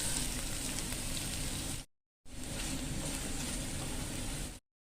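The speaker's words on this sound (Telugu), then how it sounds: "అదే పాన్లో కొద్దిగా ఆయిల్ వేసి తరిగి పెట్టుకున్న బీరకాయ వేసేసేయాలి." Chopped ridge gourd sizzles steadily in hot oil in a pan for a Telugu chutney, a dense close frying hiss in two long stretches broken by a short silent gap.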